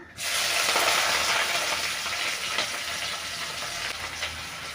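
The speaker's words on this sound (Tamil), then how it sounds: "இப்போ இந்த வெங்காயம் நல்லா வதக்கிடலாம்" Onions and curry leaves sauté in a pan for a ridge gourd kulambu, a loud, dense sizzle that bursts in at once and crackles steadily, easing slightly toward the end.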